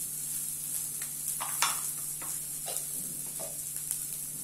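Onion with curry leaves sautés gently in a pan, giving a faint, steady sizzle with light, scattered stirring scrapes and taps; no one speaks.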